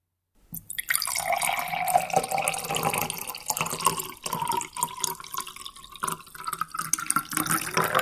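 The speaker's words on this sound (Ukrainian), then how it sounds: "Так само наливаємо в другу пляшку." Acetic acid pours steadily into a bottle up close in a lab demonstration, a gurgling, rising trickle that starts after a short silence and continues to the end.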